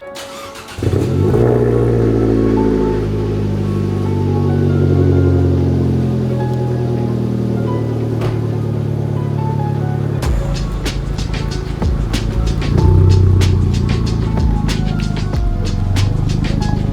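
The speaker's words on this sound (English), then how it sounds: "Exhaust leak is so bad." An Abarth car engine with a badly leaking exhaust runs close by, a loud, throbbing idle that shifts pitch as it revs, with a harsher surge late on.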